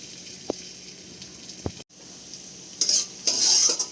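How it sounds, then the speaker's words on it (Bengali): Crushed garlic cloves drop into hot oil in a wok and begin sizzling, with a couple of soft utensil taps first, then a brief pause before the frying hiss swells louder near the end. "8-10টা রসুনের কোয়া এখানে দিয়ে দিয়েছি। এটা হালকা ভেজে নেব।"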